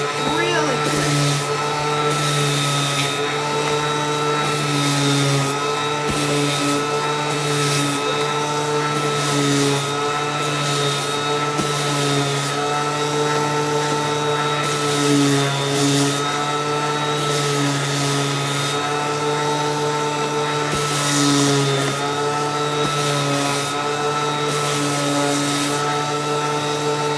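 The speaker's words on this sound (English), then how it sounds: "And I'm only sanding one side." An electric sander runs steadily on wood, a loud continuous whine with a hum that sustains for the whole stretch without pause.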